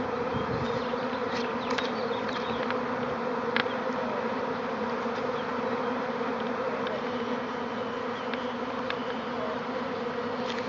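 A honey bee swarm buzzes densely and steadily close to an empty hive, a continuous loud hum of many wings with individual bees zipping past near the listener.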